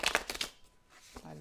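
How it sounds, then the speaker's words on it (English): A deck of cards being shuffled at a casino table, producing a quick burst of riffling flutter up close, then a pause and a short soft patter at the end, with faint background tone. "Let me shuffle."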